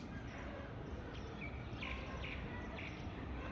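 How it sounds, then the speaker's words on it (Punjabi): Faint, sparse bird chirps and short high calls in the morning over a soft outdoor background hum, a few notes repeating at a distance. "ਇਹ ਜਿਹੜੀ ਆਵਾਜ਼ਾਂ ਨਾ ਇਹ ਆਵਾਜ਼ਾਂ ਵਧੀਆ ਲੱਗਦੀਆਂ ਪੰਛੀਆਂ ਦੀ"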